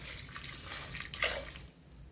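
Water splashes steadily into a pot of taro stalks for a couple of seconds, a soft continuous pouring sound that fades out at the end.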